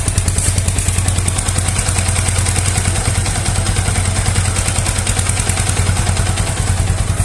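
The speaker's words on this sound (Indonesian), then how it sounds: "ini kita bisa mendengarkan suara mesin aslinya" Used motorcycle engine idling during a check of a secondhand bike, a loud, close, steady rapid putter with even mechanical pulses and a faint clatter, running alone for several seconds.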